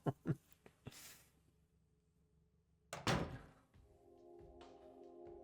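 A door opens in the 2001 survival horror game Silent Hill 2, with a heavy thunk and creak following a few sharp knocks and scuffs, then a low eerie ambient drone.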